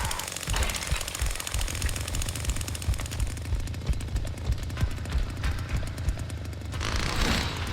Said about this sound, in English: let me start my chainsaw.